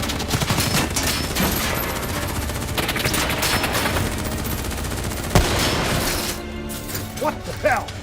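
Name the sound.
gunfire in Call of Duty: Black Ops III video game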